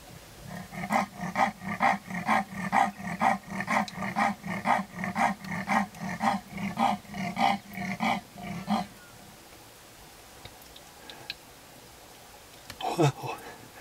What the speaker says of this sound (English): She's telling every other female leopard around that this is her territory.